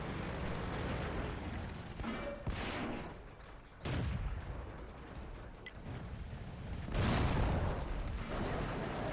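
A hay bale blows up in the World of Tanks video game amid a dense barrage of booming gunfire and explosion bursts, loud and continuous with several sharp blasts.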